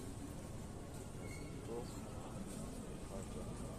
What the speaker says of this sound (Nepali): आयो मेट्रो आइसक्यो